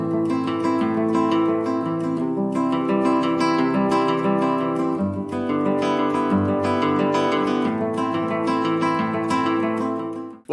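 Acoustic guitar plays a beginner finger-picking pattern, with plucked notes rolling steadily in an even, continuous rhythm, clear and close with no voices.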